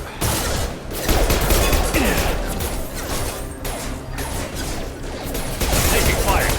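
Sustained gunfire in a Mass Effect 2 firefight: rapid shots and mechanical clatter run continuously, loud and close, with brief voices mixed into the battle.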